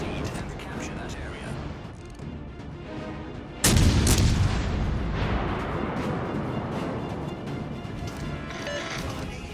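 Battleship main guns firing shells in the video game World of Warships Legends: a sudden loud, booming salvo followed by a long rumbling roar of shells and ship noise, with a voice talking over it.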